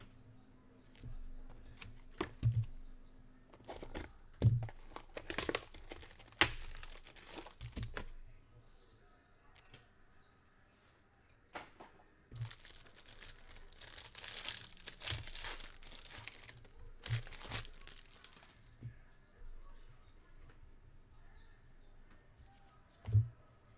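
Crinkly foil wrapper of a 2024 Topps Series 2 MLB trading card pack being peeled and torn open, intermittent rustling and crackling bursts up close, with occasional quiet speech.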